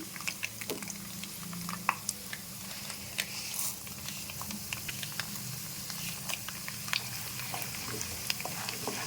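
Moong dal and urad dal frying in oil for pulihora: a steady soft sizzle runs throughout, with scattered small pops and spatters, close up and without voices.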